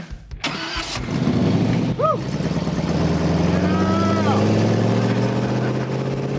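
A custom 1954 Packard car engine cranks and catches, then settles into a loud, steady running rumble with a brief rev, while people speak nearby.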